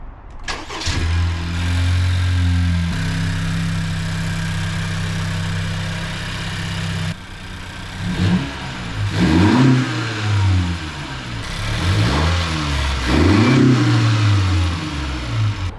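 A 2016-2021 Honda Civic 1.5T engine with a cold air intake cranks and catches, idles steadily for several seconds, then is revved repeatedly in loud rising and falling bursts close by in a garage.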